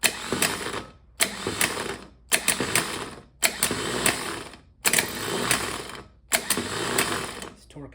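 An unloaded starter motor on a bench spins up in about six separate bursts, each a loud whirring, rattling run lasting around a second, with short silent gaps between them, heard close up.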